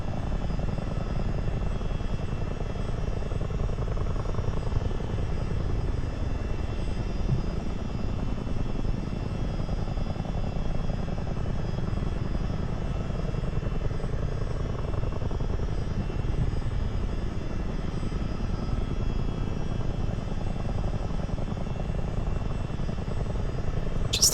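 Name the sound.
CH47 Chinook helicopter in Microsoft Flight Simulator, from a video game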